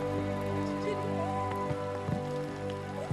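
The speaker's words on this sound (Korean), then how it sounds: "이른 새벽부터 비가 내리기 시작한다." Steady rain falling in an Indonesian jungle village, a dense continuous patter with a few sharper drops standing out, close and even throughout.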